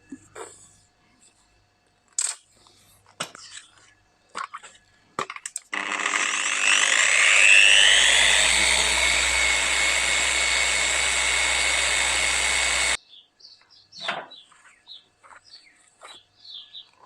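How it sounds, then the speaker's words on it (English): Power tool polishing the corner indicator lenses of a TA22 Toyota Celica, a loud steady whirring buzz lasting about seven seconds, framed by scattered handling clicks and knocks before and after. "I'm just going to use some mechanical assistance to polish the corner indicator lenses"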